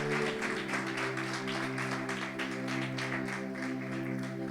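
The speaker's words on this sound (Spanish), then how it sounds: "¿Cuántos dan un fuerte aplauso a esta palabra?" A church congregation gives a round of applause, a steady patter of clapping over sustained keyboard or organ chords that keep playing underneath.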